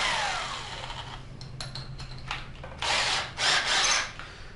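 A power drill running on a salvaged bad power tool battery with a drill bit fitted whirs in several short bursts that grow louder toward the end, close by with no talk.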